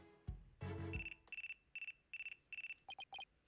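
Phone ringtone from the video game Ace Attorney Dual Destinies: a short electronic jingle, then a repeating pattern of bright beeping trills in quick bursts, fairly quiet with no talking.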